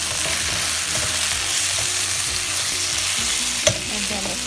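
Eggplant seasoned with black pepper is frying in oil in a pot and being stirred. A continuous loud sizzle runs under repeated scraping strokes, with one sharp knock near the end.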